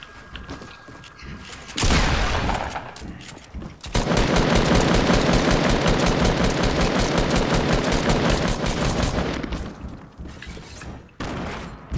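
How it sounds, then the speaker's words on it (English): Rapid, dense machine gun fire in a Fortnite match comes in long continuous bursts, loud and close, broken by short pauses and a few isolated shots. "Machine gun."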